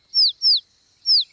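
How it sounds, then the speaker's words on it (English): A baby bird chirps three times, high, bright and clear, with two quick calls close together and a third after a short pause, with no other sound around them. "Usually the mummy bird comes when her baby calls. But it's not chirping loud enough."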